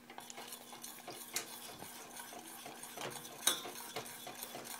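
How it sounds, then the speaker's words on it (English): A whisk or spoon stirs yogurt in a metal saucepan with no handle, breaking up lumps with quick irregular scraping and clinking strokes over a low steady hum. "whisking it around so I can break the lumps of the yogurt"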